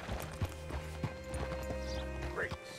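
A horse clip-clops along a road in the Red Dead Redemption 2 video game, its hooves making a steady, close, rhythmic beat of sharp hits, with a voice talking over it.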